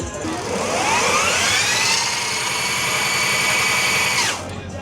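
An electric vehicle motor and powertrain spins up on a dynamometer at an electric vehicle expo, a loud, close whine rising steadily in pitch, holding high and even, then cutting off sharply near the end.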